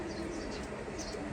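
High flyer pigeons of fine quality coo softly and steadily in a loft, the calls faint and continuous over a low, busy background hum.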